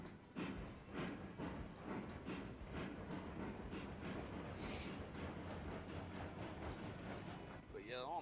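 A train in a video game rumbles and clatters steadily nearby with a rhythmic clickety-clack, a brief hiss partway through and a rising warble at the end.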